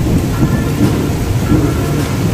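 A heavy rainstorm with low rumbling thunder rolls under dense, loud rain hiss, the rumble swelling and fading in waves across the whole stretch with no talking.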